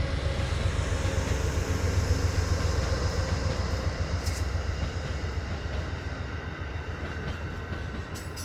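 Amtrak Cardinal passenger train running along the track in West Virginia, a loud steady rumble and roar of rolling wheels heard from on board, with faint clicks late on and no talking.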